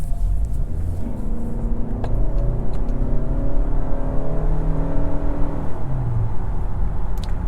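A 2025 Toyota Camry SE AWD in eco mode swinging through a quick U-turn, its engine note rising and sweeping in a steady cabin rumble with rising whine, heard close and loud without talk.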